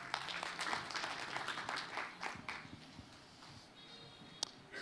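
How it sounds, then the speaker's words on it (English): An audience at an East African internet conference session gives a short round of applause, a dense wash of clapping that thins out and fades after a few seconds, leaving a quiet room with one last stray clap. "Round of applause for him,"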